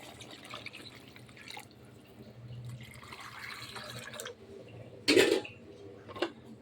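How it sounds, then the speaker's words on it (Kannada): Water is poured into a boiling white chickpea masala in a pot, a short splashing gush after quiet simmering, followed by a faint clink. "ನಾನು ಅದಕ್ಕೆ ಇವಾಗ ಎಷ್ಟು ಬೇಕಷ್ಟು ನೀರು ಹಾಕ್ತೀನಿ"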